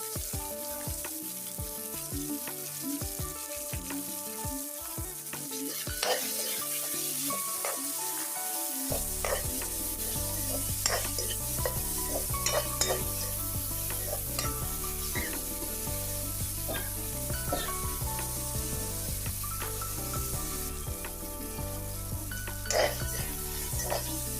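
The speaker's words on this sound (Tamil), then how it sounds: "வெட்டி வச்சுருக்கிற வெங்காயம் எல்லாத்தையுமே சேர்த்துட்டு நல்லா வதக்கி விடுங்க" Chopped onions sautéing in a pan for an egg curry make a dense, constant sizzle that grows fuller partway through, with occasional spoon scrapes and clatters, close and steady.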